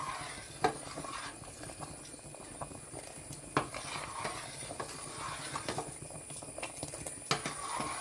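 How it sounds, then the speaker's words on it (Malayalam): Lentil payasam with coconut milk bubbling in a pot on a gas stove, soft irregular pops and plops over a quiet background hiss, faint and close. "ഗ്യാസ് നല്ലോണം തിളച്ച് വന്നിട്ടുണ്ട്"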